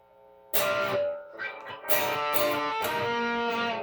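A distorted electric guitar plays a variation of the main riff of a song alone, in a few ringing hits and held chords, with brief gaps between phrases.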